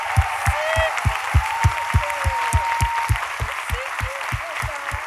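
An audience at a fashion show applauds the artistic director, a steady roll of clapping over a pounding, regular bass beat from the runway music, with voices calling out here and there.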